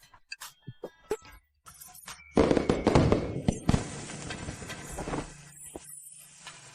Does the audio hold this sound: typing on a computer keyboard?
no